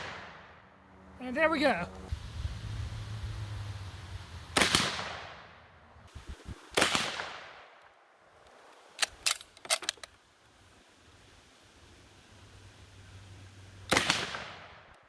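A restored World War I Lee-Enfield No 1 Mk III SMLE rifle, built with Indian parts, fires at a steel plate on the range: several sharp, separate cracks spaced seconds apart over a low background, with brief speech between them.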